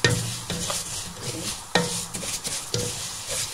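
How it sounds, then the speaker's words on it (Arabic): Vermicelli fries in a pan before rice goes in, with a soft continuous sizzle broken by several sharp scrapes and clinks of a utensil stirring against the pan. "الشعريه بحمرها الاول عشان احط عليها الرز"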